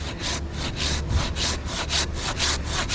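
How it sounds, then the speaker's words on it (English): A handsaw makes a back cut through a small tree, with rapid rhythmic rasping strokes, about four per second, close and steady with no talk. "I'm going to use my handsaw on the back cut so that I can guide this"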